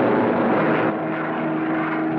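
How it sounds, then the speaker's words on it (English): A P-47 Thunderbolt fighter dive bomber from WWII drones with a steady, loud roar of engine and propeller that fills the clip, easing slightly partway through. "These Thunderbolts are dive bombers."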